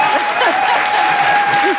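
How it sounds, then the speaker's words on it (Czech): An audience claps loudly and steadily at a live comedy stage show in a small theatre, a dense burst of applause with voices mixed in. "Vědí, ale zatleskali."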